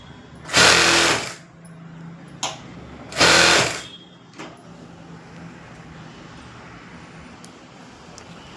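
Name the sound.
sewing machine stitching a blouse margin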